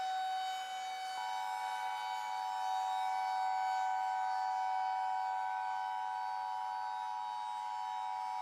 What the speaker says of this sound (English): That's when the sirens started to wail.